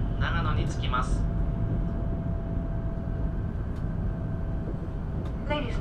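A JR East E7 series Hakutaka Shinkansen running between Joetsumyoko and Nagano, heard from inside the car as a steady deep rumble with a faint whine, while a recorded announcement speaks over the start and again near the end.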